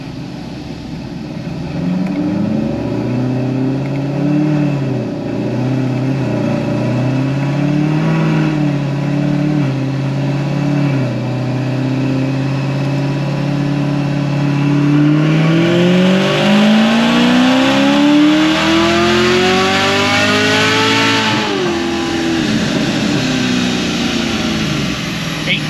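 A Chevrolet Camaro ZL1 engine with an RPM Stage 4 build drones steadily under load on a dyno, then revs up high and loud to about 6,300 rpm with a rising whine before easing off, continuous and close.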